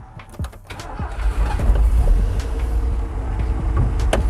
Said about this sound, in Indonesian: Nah sekarang kita mau hidupkan mesinnya seperti apa, yuk.